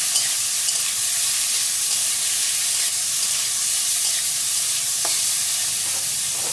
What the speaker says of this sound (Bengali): তো চিকেনটা দিয়ে দিচ্ছি, একটু ভালো করে ভেজে নেবো চিকেনটাকে তেলের সাথে